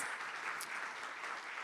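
Congregation applauding during a church sermon, a soft, even wash of clapping that sounds somewhat distant and continues throughout.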